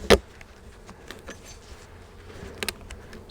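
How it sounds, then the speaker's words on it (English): Honey bees hum around an open hive super, a faint, steady buzzing close by, broken by a couple of sharp knocks or clicks at the start and near the end. "So if you open this super and it's just totally covered with bees"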